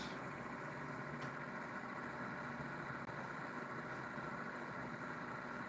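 A pulse motor with a 3D printed rotor spinning at high speed gives off a steady, faint whirring hum with a constant mechanical drone and no change in pitch.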